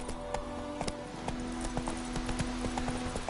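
Roach, the horse in The Witcher 3, gallops with a rapid, steady clip-clop of hooves close by, repeated beats under a faint background hum, no talking.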